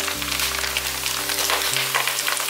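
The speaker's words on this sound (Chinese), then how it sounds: "慢慢的用中小火炒" Coral grass stir-fried over medium-low heat in a wok, giving a steady, loud sizzle with soft stirring scrapes and a low continuous hum beneath.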